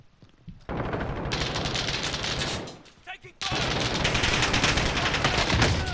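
Sniper and rapid gunfire in a shooter video game: a loud, dense burst of shots that drops away briefly, then resumes as sustained heavy firing close by.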